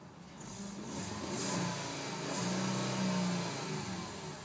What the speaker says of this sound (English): Five-cylinder engine really sounds like a truck engine, but I love how it's just very throaty